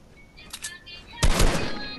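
A video game gunshot burst cracks loudly about halfway through, preceded by a fainter shot or two and a voice, then fades into rumbling noise.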